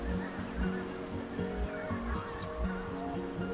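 Calls of a long-legged wading bird with a long, downward-curving bill, feeding in a muddy place: repeated honking, goose-like cries in an irregular rhythm, fairly close and clear over steady background noise.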